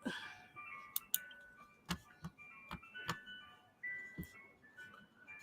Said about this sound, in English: Listen to the music of the ice cream truck.